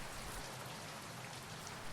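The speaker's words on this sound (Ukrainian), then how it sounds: "а дощ шумить, шумить" Warm spring rain falling steadily, a soft continuous patter and hiss of drops, even and fairly quiet, with no voices.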